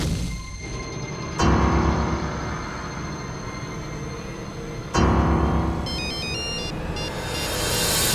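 A short electronic ringtone melody of stepped high tones chimes briefly over a loud, steady rumble of train-like background noise.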